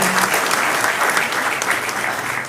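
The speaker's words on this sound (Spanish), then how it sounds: "Fuerte el aplauso y el reconocimiento" A crowd at a regional museum's thirtieth anniversary event gives a full round of applause, a dense, even roar of many clapping hands held steady throughout.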